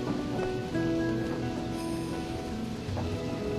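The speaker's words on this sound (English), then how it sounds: "It's starting to rain." Rain beginning to fall at night in an animated show gives a soft, even hiss of rainfall beneath sustained musical tones, moderately quiet and without speech.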